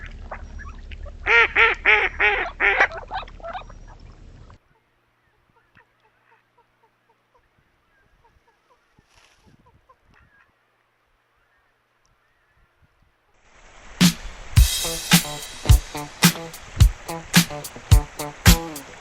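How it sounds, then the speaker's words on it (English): A drake mallard duck gives a series of soft, raspy quacking calls, close and fairly loud, with a burst at the start, a near-silent pause, then a rapid run of calls at the end. "Drake mallards like this one make a softer, raspier call."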